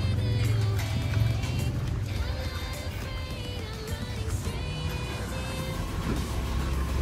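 Cars pass along a busy street in Thailand, engines and road noise rising and falling close by, with horn-like tones and general street bustle throughout.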